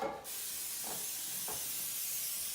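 Cooking spray hisses steadily into an 8x8 baking pan, on and on after a brief initial burst, with a couple of faint soft knocks in the background.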